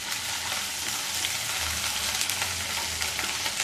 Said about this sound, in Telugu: ఇప్పుడు అర స్పూను అల్లం వెల్లుల్లి పేస్ట్. ఇది పచ్చివాసన పోయేదాకా ఫ్రై చేసుకోవాలి.